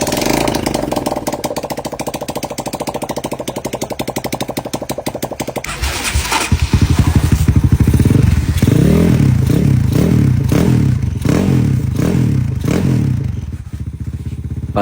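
Enduro motorcycle engine running after an overhaul, first a rapid rhythmic idle clatter, then revving up loud and rough with pulsing throttle bursts, close by.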